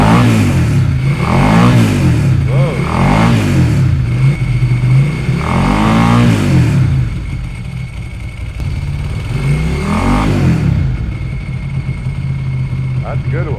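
A Ducati or Moto Guzzi motorcycle engine revving hard and close in repeated surging blips, settling toward idle between bursts, with people talking over it.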